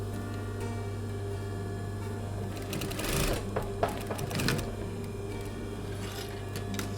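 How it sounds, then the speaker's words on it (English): Sewing machine stitching fabric pleats into a dress belt, a steady close mechanical hum with a brief louder rattling run of the needle in the middle, no talk. "So I've stitched through the two together, creating the pleats."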